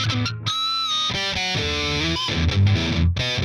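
Distorted metal electric guitar, recorded in the box and run through the Airwindows Slew plugin. It plays a dense, continuous riff with chugging chords, loud and up close, with no voices.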